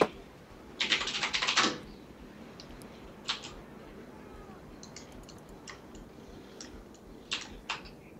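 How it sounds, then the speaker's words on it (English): A rapid burst of keystrokes on a computer keyboard while typing in-game chat, then scattered single key clicks trailing off over a quiet background. "Just, like, hit enter and start typing"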